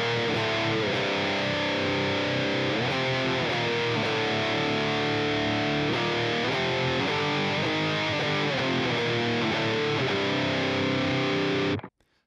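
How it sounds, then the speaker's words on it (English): Heavy distorted electric guitar riff, the chorus of a song played in standard tuning: a steady, thick chugging pattern repeating for about twelve seconds, loud and close, ending abruptly. "This is like a heavy version of the opening riff."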